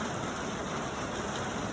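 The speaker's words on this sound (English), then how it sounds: "with the glorious sound of the rain in the background" Steady rain falls outside onto ground and soon-to-be grass, a dense, even hiss with no pauses and no voices.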